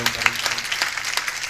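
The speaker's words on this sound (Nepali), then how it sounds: "एकपल्ट सबैले तालीद्वारा स्वागत" Audience applause at a Shrimad Bhagavat Katha religious gathering, welcoming student dancers: a dense, steady patter of clapping that holds for its full length, with a low hum from the hall's sound system underneath.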